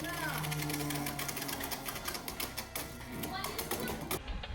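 Two Beyblade tops, Scorpio Spear and Hell's Side, spin and clash in a tournament stadium, giving a fast rattling and clicking with a high whine, while voices chatter in the background.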